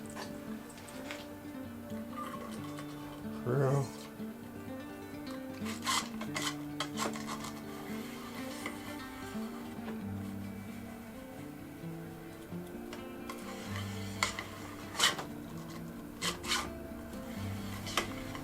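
A nylon cleaning brush is run back and forth inside an air rifle barrel, giving faint rasping rubs with light metallic clicks and clatter over a low steady background.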